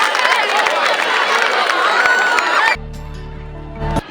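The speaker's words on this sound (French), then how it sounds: "Vous devez applaudir une fois de plus pour tous les sportifs par rapport à cette prouesse." A school crowd at a college ceremony applauds and cheers for its athletes, a loud dense burst of clapping and voices that cuts off abruptly, leaving a quieter room with a low hum.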